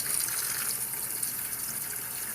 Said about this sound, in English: you can drain, using this one, the house water into the bucket